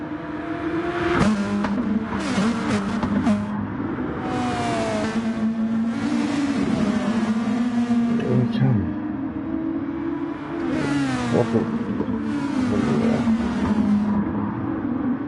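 A Mustang race car pulls away on track, its engine roaring and rumbling steadily with rising revs and gear changes, joined by other engines passing close by.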